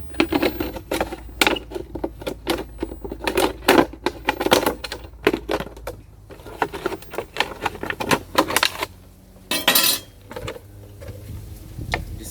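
A very sharp knife saws through a plastic container in a run of quick, crisp, clicking strokes up close, with a brief louder crackle near the end and no talking.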